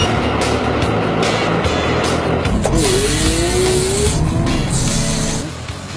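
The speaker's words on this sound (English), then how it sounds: "What's that wheel loader that's struggling over there?" A Case wheel loader struggles and slides during a wheel loader competition, its engine roaring loud and steady with a rising strained whine and tire scrubbing, close by and dominating the scene before easing off at the end.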